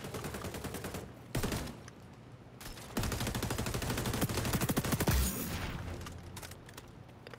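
Rapid bursts of M4A1 assault rifle fire in the XDefiant online shooter, loud and sustained with short pauses between volleys, no talking.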